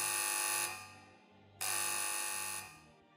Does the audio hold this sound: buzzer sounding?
yes